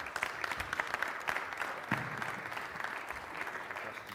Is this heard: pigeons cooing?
no